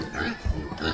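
A pig grunts and oinks a few times over a short stretch, close by on a Philippine farm, with one low burst standing out midway.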